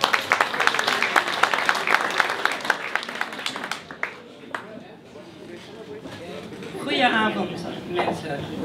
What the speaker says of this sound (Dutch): Hartelijk applaus voor Erika.